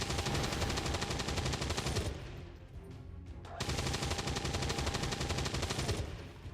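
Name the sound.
gunfire from soldiers' ballistic weapons in XCOM 2 video game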